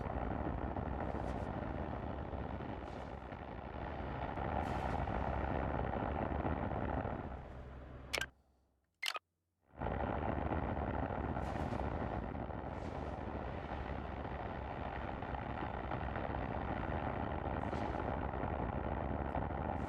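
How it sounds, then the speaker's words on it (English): Steady roaring hum of spaceship truck engines in the video game Star Trucker, droning evenly, briefly cutting out to near silence midway before resuming at the same level. "These engines sound like the Raptor engines on SpaceX."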